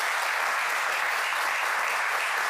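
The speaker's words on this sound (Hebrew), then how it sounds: "כפיים לזמרי," Dense, steady applause from a studio audience on a political talk show, loud and continuous with no gaps for the whole short stretch.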